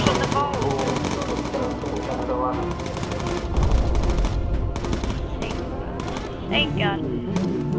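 Rapid machine gun bursts rattle almost without pause in a German-themed shooter game, with heavy low booms and scattered clanks mixed in while a player talks over the gunfire.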